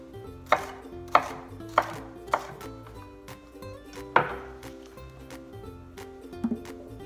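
A chef knife dices food into larger pieces on a cutting board, several distinct sharp chops spaced about half a second apart, then a pause and a few lighter taps, close over faint background music.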